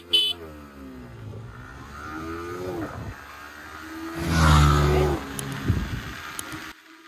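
Yamaha R15 motorcycles launch in a drag race, with engine revs climbing in several rising sweeps and a loud surge of roar in the middle before the sound fades away. No one speaks.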